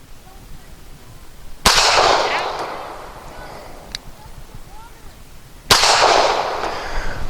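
Two loud, sharp pistol shots from an Arsenal Firearms Strike One fired with a stiff flat-nose round-nose load, each a sudden crack followed by a long echoing decay across an outdoor range, with a faint click between them.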